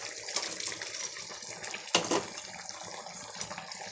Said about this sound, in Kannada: ಒಂದು ಕಾಲು ಗ್ಲಾಸಷ್ಟು ನೀರು ಹಾಕ್ಕೋತೀನಿ